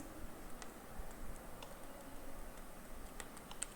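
Typing a print statement for a simple Python program on a computer keyboard: soft, fairly steady key clicks with occasional sharper taps, close and quiet, with no one talking.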